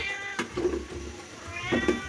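A cat meows twice, close and clear, over a low kitchen background hum.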